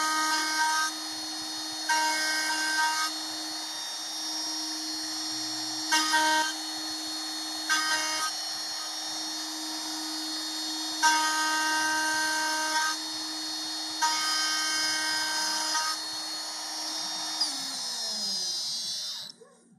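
A CNC machine cutting contour profiles with an end mill, a loud sustained high-pitched whine that swells in repeated bursts as the cutter engages, then winds down and stops at the end.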